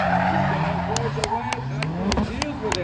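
Drift car tires squeal at Driftland during a drift league round, long wavering screeches under a loud engine drone, with repeated sharp bangs cutting through.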